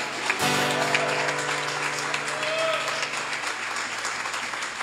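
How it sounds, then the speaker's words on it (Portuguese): A church congregation applauds at a worship service, steady sustained clapping that fills the room alone, with a sustained musical tone running underneath throughout. "Aplauda Ele, aleluia."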